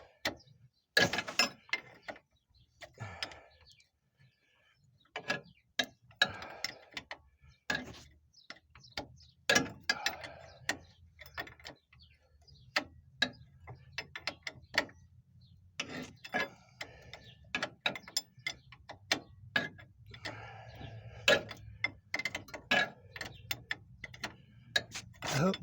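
A ratchet works loose the ball joint nut on a 2007 Pontiac Torrent, close and irregular bursts of clicking with pauses, some heavier knocks mixed in and a faint low hum underneath.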